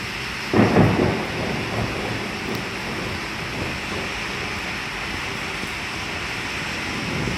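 Thunder cracks and rumbles once near the start during a long-awaited rainstorm in Odessa, then a steady rush of rain continues, loud and close.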